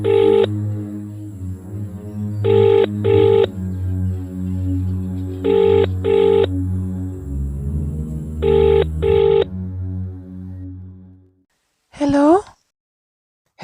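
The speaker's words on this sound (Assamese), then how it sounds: "লগাই চাওঁচোন ফোনটো।" A telephone being dialed, with a series of short keypad tones in uneven clusters over a low background hum, followed by a brief burst of speech.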